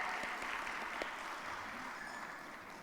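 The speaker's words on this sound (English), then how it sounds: "Let's have a huge round of applause" Applause at a graduation ceremony, a steady, moderately faint wash of many hands clapping together, heard without any talk over it.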